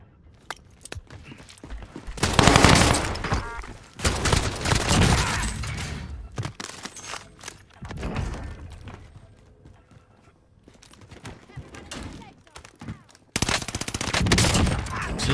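AS44 rifle bursts in a Warzone match, clustered rapid shots in several loud bursts separated by quieter gaps with footsteps and movement.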